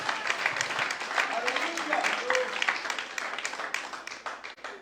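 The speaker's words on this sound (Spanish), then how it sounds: "Alguien dé un aplauso al Rey" A church congregation gives applause for the King at a Christmas sermon, with scattered clapping that thins toward the end and voices talking among it at moderate volume.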